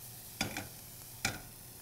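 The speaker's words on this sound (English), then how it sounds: "So we'll saute those, and we're going to get them nice and brown." Food sautéed in a pan gives two short bursts of scraping and sizzle, as if stirred or tossed, over a faint steady background hiss.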